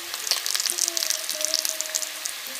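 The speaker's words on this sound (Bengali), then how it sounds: "সমস্ত মশলা আমি 3 থেকে 4 মিনিট কড়াইয়ে ভালো করে কষে নেব।" Spices with a little sugar sizzle steadily in a kadai for katla fish kalia made with raw tomato, a dense continuous frying hiss with faint stirring scrapes and no voices.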